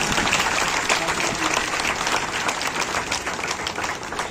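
Loud, dense applause from a crowd at a satsang farewell ceremony in Beawar, steady and sustained clapping throughout without a break.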